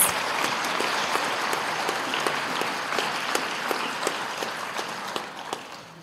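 A crowd at a junior high awards night claps steadily for students receiving honors, a moderately distant, even patter of many hands with individual sharp claps standing out, gradually thinning toward the end.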